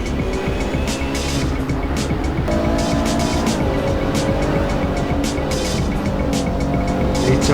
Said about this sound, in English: Nissan GTR running very well here at the Nürburgring.